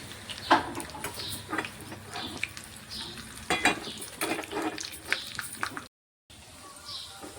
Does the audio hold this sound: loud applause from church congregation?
no